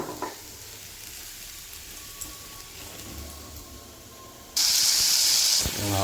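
Onions sautéing in a pan while being stirred, a steady close sizzle with scraping stir noises, growing louder and brighter near the end, with no voices.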